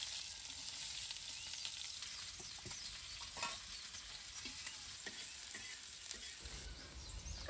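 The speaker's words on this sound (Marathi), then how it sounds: "तेल टाकून घेणार आहे. चिरलेला कांदा टाकून घेते." Chopped onion fries in hot oil in a pot, a steady close sizzle with occasional stirring scrapes running throughout, no voices.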